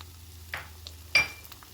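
Red onions with salt and isot pepper cook in a pan, giving a soft steady sizzle with a few quiet scraping stirs and one sharper clink, close and low in level.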